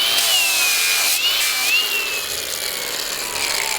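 A power tool grinds down the front of a steel forestry mulcher tooth, giving a loud continuous high whine with a pitch that wavers and dips as pressure shifts, close up and with no talk.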